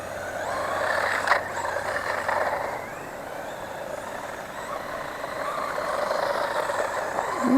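A DEERC 001E brushless RC car whines steadily as it drifts, a continuous close electric-motor buzz with rising and falling surges.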